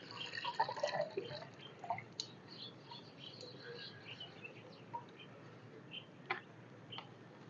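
Liquid mustard cake fertilizer solution is poured slowly and carefully, with soft intermittent drips and trickles, faint and close, over a quiet outdoor background.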